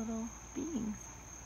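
Cicadas drone in one steady, high, electric-sounding buzz that runs unbroken from start to finish, with a faint low voice murmuring briefly underneath.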